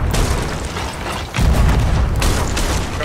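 Cannon fire in the video game Sea of Thieves, loud booming blasts with mechanical clanks over a rumbling, noisy backdrop, with a heavy thump partway through.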